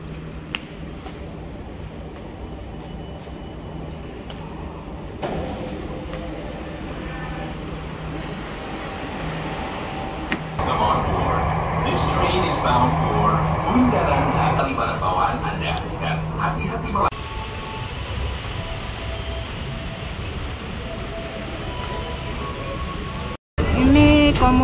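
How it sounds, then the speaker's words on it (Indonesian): A metro train rumbles in and rolls to a stop nearby in a Jakarta underground station, steady mechanical noise rising midway, with people talking over it throughout. "Kereta datang, metro."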